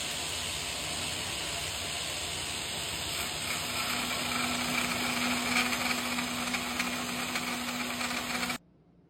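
A Groab band saw ripping through a piece of metal, a steady grinding, whirring drone with a faint tonal hum that holds continuously, then cuts off abruptly at the end.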